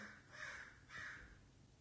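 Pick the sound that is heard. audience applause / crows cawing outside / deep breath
crows cawing outside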